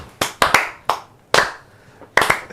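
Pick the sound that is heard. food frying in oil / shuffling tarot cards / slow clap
slow clap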